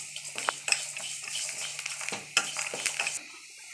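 Two lumps of asafoetida are dry-roasted in a pan for mango pickle, with a spoon scraping and clinking against the metal in scattered, fairly close strokes and soft crackling between them.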